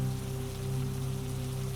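Steady rain falls over a garden in a storm, beside a greenhouse with glass panels and old woody lavender plants; a dense, even hiss with a low drone underneath, continuous and close, with no voices.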